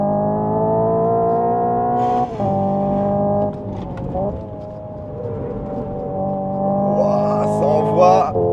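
Hyundai Ioniq 5 N electric car accelerating hard with synthetic engine sound, a loud rising drone broken by brief cuts at simulated gear shifts, near and continuous throughout.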